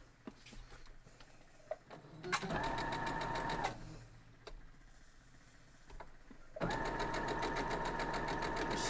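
A sewing machine stitching quilt block fabric for a pinwheel block runs in two steady bursts of rapid, even mechanical clatter, separated by quiet pauses with small handling clicks.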